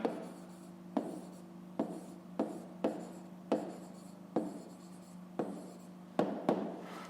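Pen writing out a fifth-grade maths solution on paper, a run of short scratchy strokes in an irregular rhythm, close and quiet over a faint steady hum.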